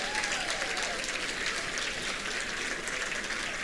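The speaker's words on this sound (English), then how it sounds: "Let's give them a bigger round of applause, y'all." Sustained applause at a wildlife center fundraising event fills the room for the volunteers, a steady, even roar of many hands heard from some distance with no speech over it.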